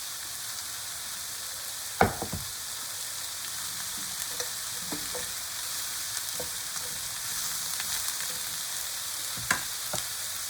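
Green asparagus fries in a pan with a constant bright sizzle, broken by a few sharp clacks of stirring, one louder knock early on.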